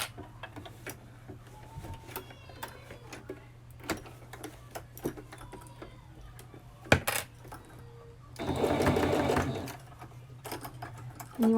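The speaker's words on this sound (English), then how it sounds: "I'm gonna go over it with my serger" A serger stitches a small gathered puff sleeve in the round, its motor whirring in a short steady burst near the end, after scattered ticks and taps of fabric handling over a low hum.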